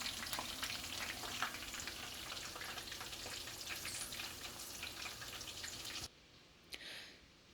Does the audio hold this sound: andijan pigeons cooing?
no